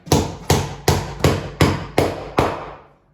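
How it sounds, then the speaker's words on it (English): Seven sharp hammer blows land in a steady, even rhythm while fitting carpet grippers in a hallway, each ringing out briefly before the next, loud and close with no voices. "it's about time you let me at it with a hammer."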